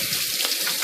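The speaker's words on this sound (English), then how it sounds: "I'll wash my hands for just a second here" Tap water runs steadily into a kitchen sink while hands are washed, a brief close gushing splash with no talking.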